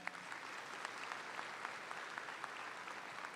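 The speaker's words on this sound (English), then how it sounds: "Can we please give them a round of applause for that?" A crowd at a 4-H/FFA livestock championship show in Kentucky applauds the competitors, a faint, distant, even wash of clapping that carries on steadily for a few seconds.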